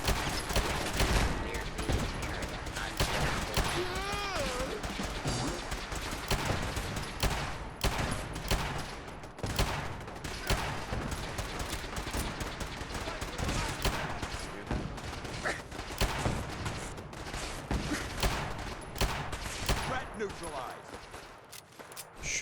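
Sustained gunfire in the Horizon 1.9 game rattles in dense, irregular bursts over a long stretch, mixed with voices talking and a constant background din.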